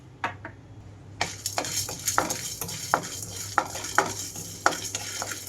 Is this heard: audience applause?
no